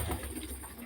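A Jamuni Panja pigeon gives a short, low, soft coo close by over faint background noise, lasting under a second.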